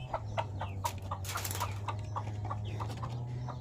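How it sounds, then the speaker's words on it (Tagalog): Chickens and chicks in a coop cluck and peep in short, repeated calls over a steady low hum, the birds close by and moderately loud. "Eto na yung mga sisiw."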